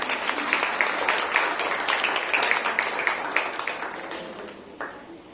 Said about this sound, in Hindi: तो आप ताली बजा सकते हैं।